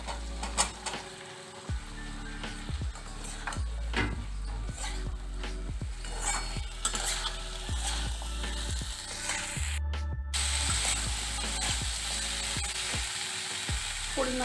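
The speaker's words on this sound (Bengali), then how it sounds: "এর মধ্যে ঝিঙেগুলো দিচ্ছি।" Ridge gourd pieces frying with chopped tomato in a pan, a continuous sizzle broken by regular scraping and clattering strokes of a spatula stirring close by.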